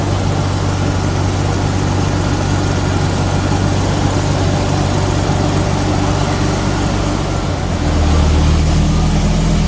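A Jaguar XJS V12 engine idles after a cold start, a loud, close, continuous rumble that holds steady and deepens slightly near the end.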